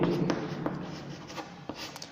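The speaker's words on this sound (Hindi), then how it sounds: "तो इधर नीचे लिख लेंगे" Chalk or marker strokes during a maths lesson on collinear points, a close, continuous scratching with brief tapping accents and no talking over it.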